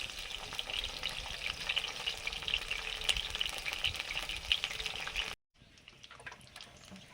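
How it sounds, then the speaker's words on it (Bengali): Homemade lentil dumplings (bori) frying in hot oil give a steady, busy sizzle with crackles for about five seconds, then cut to a much quieter, fainter sizzle. "বড়ি ভেজে নিচ্ছি, এগুলো বাড়িতে তৈরি বড়ি।"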